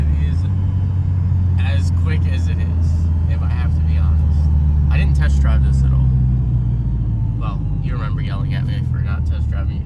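A used car bought off an online marketplace is being driven on a test run, its steady low engine and road rumble running loud and close throughout while people talk over it.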